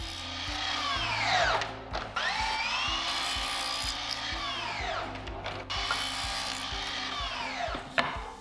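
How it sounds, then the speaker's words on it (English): A miter saw chops wooden boards to length against a stop block, with three loud whining cuts in succession as the blade spins up, bites through the wood and winds down. "I set up a stop block at the miter saw, then made sure to hold the length of board in between this stop and the blade"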